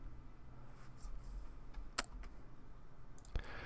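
Computer keyboard keys on a Windows 7 PC click sparsely and faintly over a low background hum, with a couple of sharper isolated taps standing out.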